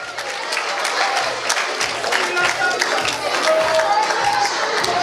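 Audience applause at a Kids Got Talent elimination round, a dense, steady patter of many hands clapping throughout, with a few faint voices under it.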